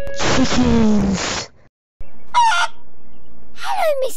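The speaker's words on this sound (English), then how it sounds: "Chickens!" Cartoon chickens squawk and cluck loudly and close, a long burst of clucking, a short pause, then two more sharp squawks, with no talk over them.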